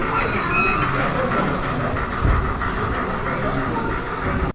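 A model railway train runs on a layout at a club exhibition, giving a steady, continuous rumbling clatter with a faint louder bump midway, close and fairly loud throughout, with no talk, before cutting off abruptly.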